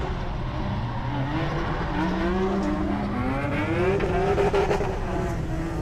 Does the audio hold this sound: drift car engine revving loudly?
yes